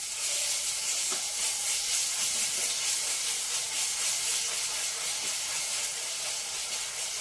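Ginger garlic paste sizzles steadily in a pan with softened onions, a continuous close hiss with faint crackles and no talking.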